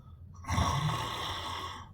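A person imitates snoring with the voice, a single drawn-out rasping snore that swells loudly and holds steady to the end, recorded close with no other talk.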